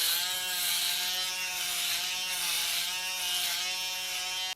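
A Babyliss Pro Titanium foil shaver buzzes steadily and close up while shaving a head, a continuous electric whine that cuts off at the end.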